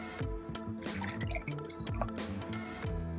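Hot water poured over oat bran in a bowl for cookie dough, a close, wet splashing and dripping with small squishy gurgles that continue steadily throughout.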